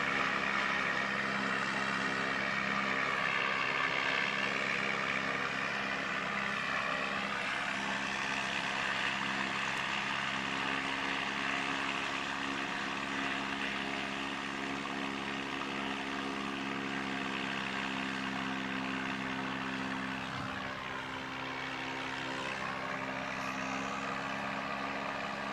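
A Jetstar airliner departs Christchurch Airport bound for Auckland, its engines a steady, heavy roar with droning harmonic tones that hold evenly from a distance throughout.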